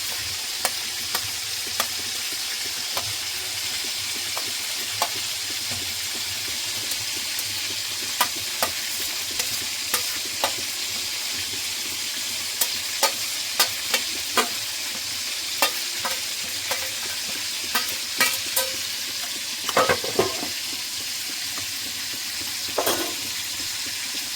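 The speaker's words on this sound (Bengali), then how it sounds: "আমি আরেকবার চিকেনগুলো দিয়ে দিয়েছি তেলে" Chicken pieces fry in hot oil in a pan, giving a soft steady sizzle broken by frequent scrapes and clinks of stirring, close and with no voices.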